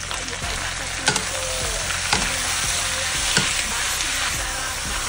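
Rabbit meat sizzles and fries steadily in a pan with garlic and onion, loud and continuous, with a few sharp stirring clatters along the way.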